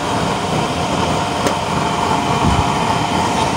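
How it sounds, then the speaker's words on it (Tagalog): A Michelin 2.85-ampere electric blower running steadily on a 32-hole, 6 mm thick, 4-inch chamber burner during a flame test, giving a continuous close whirring roar with a brief click near the middle and no speech. "Maganda itong blower na ito kasi accurate yung adjustment nito."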